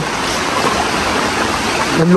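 Heavy typhoon rain and rushing floodwater in a flooded neighborhood, a dense, steady wash of water noise that fills the short stretch at close range.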